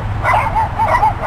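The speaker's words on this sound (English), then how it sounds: "I am. Barking dogs." Several dogs yip and bark in short, high, repeated bursts, steady and fairly close, with no talking over them.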